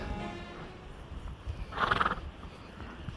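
A horse whinnies once in a clear, fairly close burst partway through, with faint hoof clip-clop and low rumble around it and no talk.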